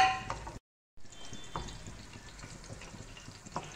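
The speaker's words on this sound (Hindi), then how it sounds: "मेरा प्याज जो हल्का फुल्का गोल्डन हो रहा है" Onions fry in a pan until golden, cooked in a large batch for a mutton and bottle gourd curry. A soft, steady sizzle is broken by one brief dropout and a few faint stirring scrapes.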